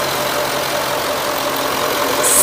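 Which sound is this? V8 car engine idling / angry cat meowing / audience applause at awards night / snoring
V8 car engine idling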